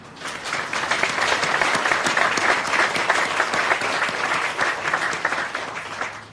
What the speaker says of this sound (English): Joseph Waterman, and Catherine Waterman a round of applause.